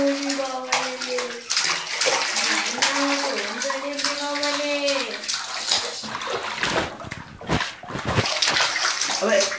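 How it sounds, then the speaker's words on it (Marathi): A small child splashes water while bathing in a tub, irregular sloshing and splattering bursts, with a voice and an adult speaking over the first half. "पाणी उडवते."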